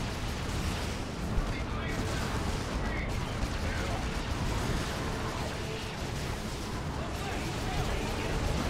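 Grenade explosions in a Dawn of War battle, with dense booms and gunfire-like bursts continuing without pause under a steady battle din, and a commentator talking over the action.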